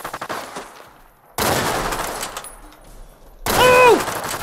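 Gunfire in the modded video game Fallout New Vegas: a burst of rapid shots, a pause, then a louder volley ending in a sharp ringing ricochet-like whine, close and heavy.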